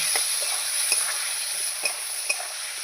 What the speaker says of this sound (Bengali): নুন দেবো হলুদ দিয়ে দিলাম লঙ্কার গুঁড়ো দিয়ে দিলাম দিয়ে ভালো করে নাড়ব